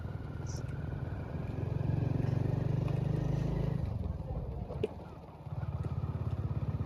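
A motorcycle engine runs close by with a steady throbbing rumble that swells, dips briefly and returns, with a clatter partway through, on a roadside.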